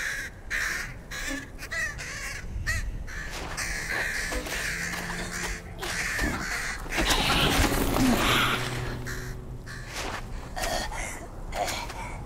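Crows cawing in the Lord of the Rings Gollum video game, a few harsh caws rising over a steady, full ambient game soundscape with rumbling low tones.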